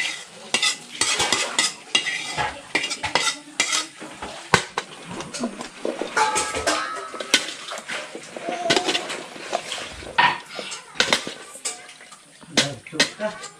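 Snail stew in coconut milk being transferred and stirred into a casserole pot, with scraping, clinking utensil strokes and liquid sloshing in irregular bursts at close range.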